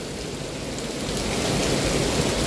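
Heavy rain pours down steadily in a dense, continuous roar with no breaks and no voices.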